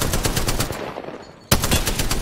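Rapid automatic gunfire from an Apex Legends Arenas match rattles in dense bursts, cuts off briefly into quieter game ambience, then resumes loud and close.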